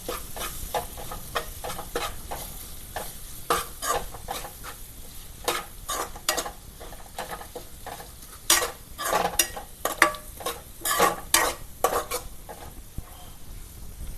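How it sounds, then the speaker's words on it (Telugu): Turmeric and ginger paste stirred into a broad bean seed curry in a pan, with a steady sizzle under repeated scraping and clinking strokes of a spoon against metal, growing busier and louder toward the end. "అలాగే అల్లం పేస్ట్ బాగా కలుపుకోవాలి"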